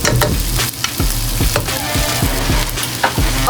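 Vermicelli noodles frying and sizzling in a pan, with a steady hiss and repeated scraping stirs at a regular beat, close and loud, no talking.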